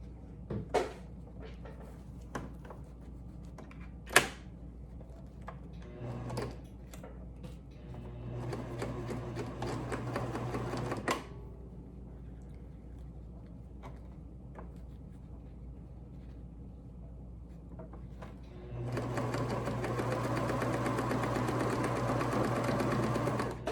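A sewing machine stitches a bridesmaid dress shoulder strap in two separate runs, a short burst then a longer steady one, close and clear over a quiet room with small handling clicks between.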